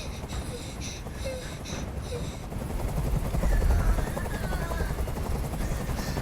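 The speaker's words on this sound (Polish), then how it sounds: "Nie mogę już znieść tego hałasu! Każ swoim odwołać helikopter!" A helicopter hovers overhead in the video game Detroit: Become Human, a continuous low rotor thump and engine drone filling the scene, loud and steady, with some brief sharper sounds layered over it.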